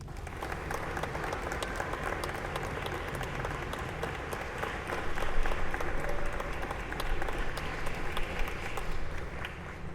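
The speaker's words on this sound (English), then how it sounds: "Let's give those watching a round of applause and thanks." High school graduation audience in Elizabeth in 2020 applauding, dense continuous clapping from a sizable crowd at moderate distance, swelling slightly midway and holding steady to the end.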